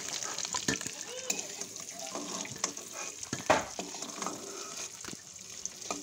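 Eggs seasoned with salt and turmeric frying in oil in a pan, a steady soft sizzle and crackle running throughout at moderate level, with a few sharper spits and pops.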